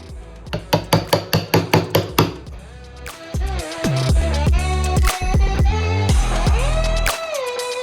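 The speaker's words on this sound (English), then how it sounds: "And then I use our little hammer." A small hammer taps wood on the side panel of a bedroom dresser, about ten quick, evenly spaced knocks up close, followed by a few heavier, slower blows with ringing tails.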